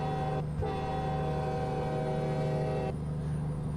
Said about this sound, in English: It has a fucking train horn.